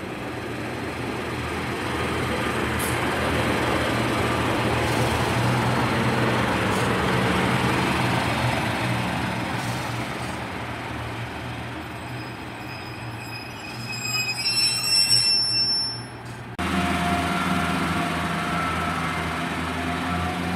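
A Class 143 Pacer diesel unit, 143-610, on the Aberdare to Barry Island service at Cathays station, rumbles steadily nearby with wheel squeal and a brief screech, then the engine note shifts as it moves off.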